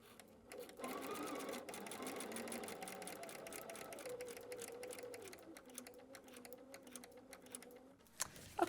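A sewing machine stitching along a line in foundation paper piecing makes a rapid rhythmic needle patter that runs steadily for several seconds, then slows and stops with a couple of clicks.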